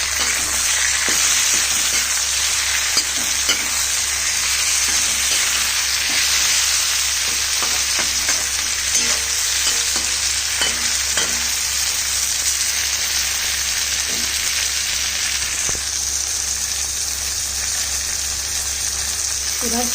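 Chopped tomatoes frying with softened onions in a pan give a steady, loud sizzle with scattered stirring scrapes, continuous throughout.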